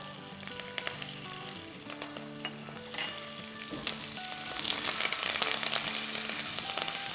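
Curry leaves frying in hot oil in a pan for a potato curry, a loud, steady crackling sizzle with spoon stirring and clinks throughout, close to the microphone.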